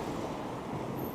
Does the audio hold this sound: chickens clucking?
no